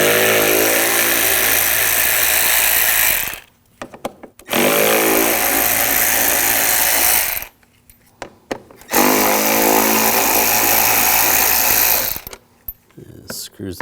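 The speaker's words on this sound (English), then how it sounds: "Take these screws out." Power driver with a T30 socket backing screws out of a cover on a 2006-2009 Audi S4, whirring loudly in three long sustained runs separated by short pauses with small clicks and handling sounds.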